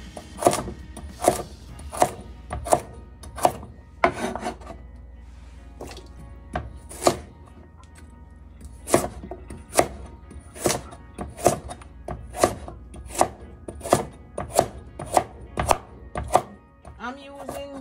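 A knife chopping carrots on a cutting board for a Jamaican sea moss and beetroot drink: sharp, distinct thuds in irregular bursts with short pauses, close and clear.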